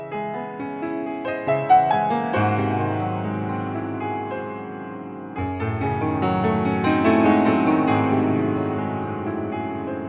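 Solo piano playing a contrasting theme from the middle section of an original piece, with flowing melodic phrases over deep sustained bass notes, the texture swelling after a fresh low entry midway, close and clear with no talking.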